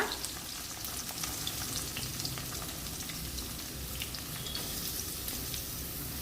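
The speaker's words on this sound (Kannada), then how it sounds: "ಮೊದಲು ಈರುಳ್ಳಿನ ಹಾಕ್ಕೊಳ್ತೀನಿ ಈರುಳ್ಳಿ ಮೀಡಿಯಮ್ ಸೈಜಲ್ಲಿ ಕಟ್ ಮಾಡಿರೋದ್ರಿಂದ ಸ್ವಲ್ಪ ಫ್ರೈ ಆಗಲಿ ಅಂತ" Medium-cut onions fry in a pan with a steady, fine crackling sizzle and occasional stirring, moderately close and continuous without voices.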